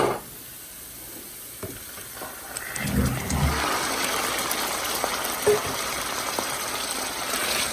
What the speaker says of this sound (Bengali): এখন আমি ওই সয়া সসে ভেজানো মাংসটা এই যে সয়া সসে ভিজিয়ে রেখেছিলাম এটা আমি ঢেলে দেবো এখন